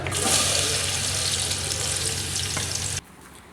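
Chopped onions sizzle loudly in about 100 ml of hot oil in a cooking pot for masoor daal, a dense, steady frying hiss that stops abruptly near the end, leaving only faint room noise.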